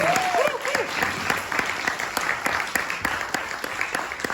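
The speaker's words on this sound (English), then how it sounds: "A big round of applause for everybody." A crowd applauds steadily throughout, dense clapping at moderate volume, with a brief voice at the start.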